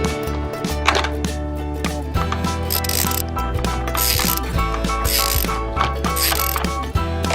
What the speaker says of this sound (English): Put it inside and screw it up.